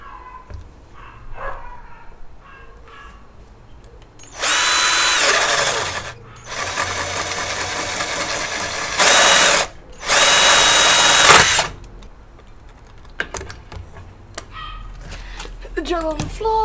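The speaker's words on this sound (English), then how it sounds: "drill a hole in the lid of your tub" A power drill whirs loudly in several bursts, drilling a hole in a plastic tub lid, briefly pausing between them, with quieter sounds and faint talk before and after.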